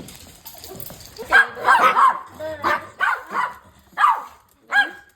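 A dog barks in a lively burst of yips and whimpery barks, several close, loud calls spaced out after a quiet start, with a person speaking briefly among them.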